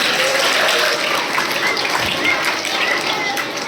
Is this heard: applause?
yes